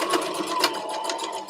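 A sewing machine back stitching across a dress band runs in a fast, steady, close mechanical rattle of rapid needle strokes, with no voices.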